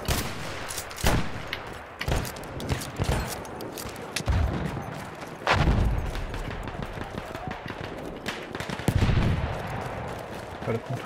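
Battlefield 1 gunfight with machine gun fire, dense bursts and sharp individual shots cracking close and loud, interrupted by heavier booms, with voices talking over the combat.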